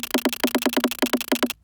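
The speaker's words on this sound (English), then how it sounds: "Just a super sped up version of that drum beat." Sped-up drum beat sampled from skateboard hits, played back in a sampler: rapid, evenly spaced clicky knocks in a quick rhythm for under two seconds, fairly quiet, ending abruptly.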